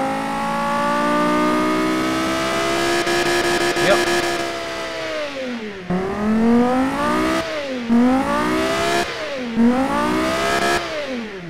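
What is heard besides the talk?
car engine revving through its rev band in the video game Automation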